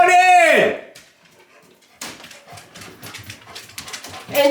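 Excited dogs let out a loud whimpering whine at first, then after a brief lull come rapid scrabbling and shuffling, with yelps and whines breaking through near the end.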